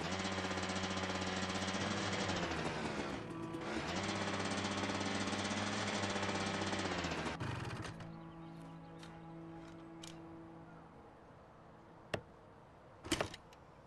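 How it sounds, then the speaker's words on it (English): Sharp hammer strikes from repairing a sign in the video game A Way Out, a few isolated knocks near the end after a loud sustained mechanical game drone fades. "I think I'm gonna need a hammer."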